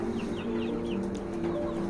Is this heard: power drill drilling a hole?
no